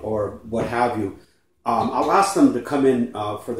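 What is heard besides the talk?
No everyday noise stands out behind the speech.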